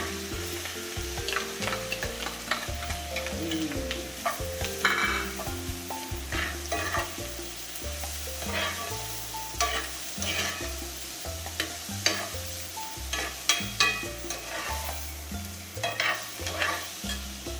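Onion sizzles steadily in hot melted butter in a pan, a continuous frying hiss with scattered stirring scrapes, while rhythmic background music plays underneath throughout.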